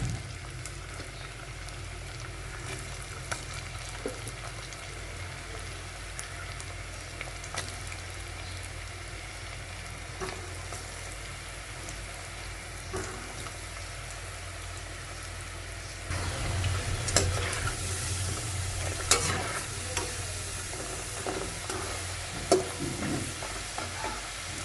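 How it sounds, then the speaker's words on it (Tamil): Potato wedges deep frying in hot oil over a medium flame, a soft, steady bubbling hiss heard close by that grows a little busier and louder toward the end, with occasional faint clinks. "எண்ணெய் சூடானாக்கில் நம்ம வெஜ்ஜஸ் போட்டு எடுத்துடலாங்க"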